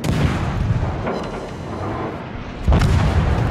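Warship guns fire salvos in World of Warships, heavy booming blasts over a rumbling background, with one loud close shot near the end.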